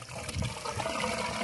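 Water seeping down through damp soil in a planting sack used for growing pechay, heard as a steady close-up trickle and gurgle that continues throughout without any speech.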